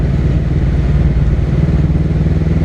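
A Honda Rebel 500 motorcycle carries its rider through city streets, its engine giving off a steady, loud, close rumble with a constant low drone and no breaks for the whole stretch.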